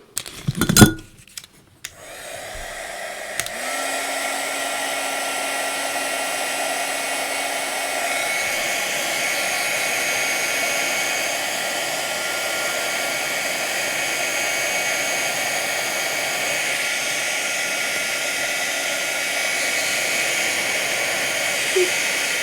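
A heat tool blows hot air over a stamped card in a loud, steady whooshing roar that runs unbroken for about twenty seconds after a few brief clicks and knocks as it starts up.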